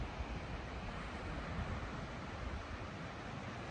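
Steady broadband rush of sea surf washing onto the shore, continuous and fairly soft, with some wind noise and no voices.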